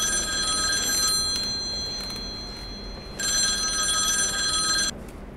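A telephone rings indoors in two bursts of bright, trilling electronic bell tones with a short pause between them, over a low background hiss.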